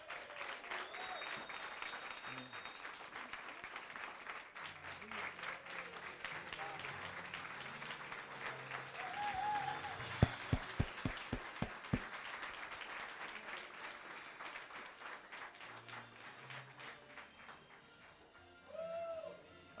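At a bench press championship, the crowd applauds a sub-junior gold medal winner with steady clapping and some cheers that run at moderate level throughout, alongside a burst of sharp, close claps midway.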